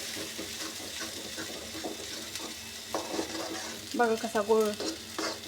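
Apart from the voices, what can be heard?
masala being sautéed and stirred in a pan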